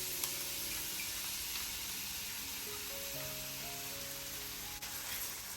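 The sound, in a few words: onion sizzling in olive oil in a pan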